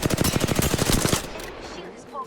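Rapid automatic gunfire in a video game, a fast burst of close, loud shots lasting about a second before fading into ambient noise.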